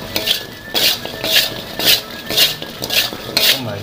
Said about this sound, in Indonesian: Oke, aduk-aduk sampai tercampur rata ya.